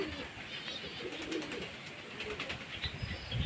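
Pigeons coo softly amid a steady windy hiss, a few low murmuring calls over outdoor background noise.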